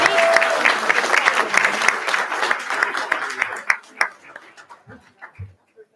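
A crowd at a town board meeting claps and cheers for named students, dense applause that thins out over the last two seconds into scattered claps, with a dog barking briefly near the end.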